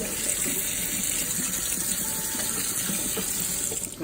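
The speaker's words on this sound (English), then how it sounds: "All you want to do is just put the water on it, just move the chicken around" Tap water runs steadily over raw chicken being rinsed and moved around in a kitchen sink, a continuous hissing splash with no speech.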